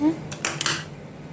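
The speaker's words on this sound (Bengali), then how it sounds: "আবার কড়াইটা ধুয়ে গ্যাসের পরে বসিয়ে দিয়েছি।" A metal kadai, just washed, is set onto a gas stove with a short burst of clattering and knocking metal, close by, after a brief trace of a voice.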